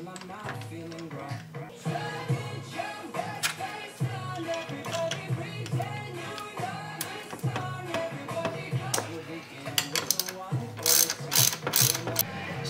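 Hand ratchet driving bolts on a Tremec TKO600 five-speed transmission during a shifter rebuild, steady close clicking of the pawl through most of the stretch with sharper metallic taps near the end, no voices.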